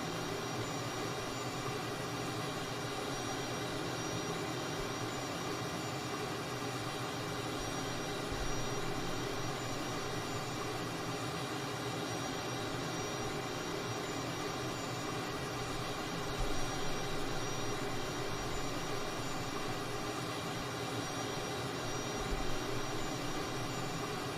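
Steady, continuous roar of a Cessna Tweet jet trainer's engine in flight, a constant loud drone heard from inside with no talking.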